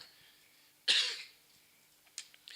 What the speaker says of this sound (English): I'm not going to apologize every time I cough